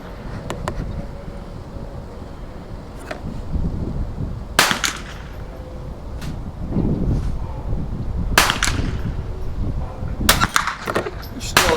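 Winchester M190 rifle shots fired outdoors, a few sharp cracks spread over several seconds against steady wind and handling noise, with people talking quietly in the background between shots.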